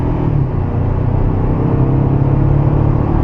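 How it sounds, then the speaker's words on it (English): A 2024 Toyota Tacoma pulling up to 55 mph, heard from inside as a steady loud low engine drone and road rumble with no talk. "Now we're going to accelerate up to 55."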